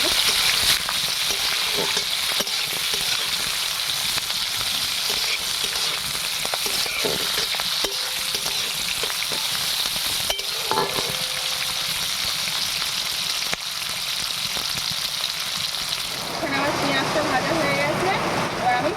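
Steady loud sizzling of onions frying in hot oil in a kadai, continuous throughout, with occasional clinks and stirring, and a brief bubbling swell near the end.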